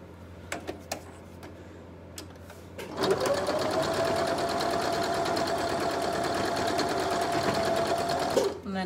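A sewing machine stitches a pinwheel quilt block, running at a steady fast whir for several seconds after a few soft handling clicks and ending abruptly.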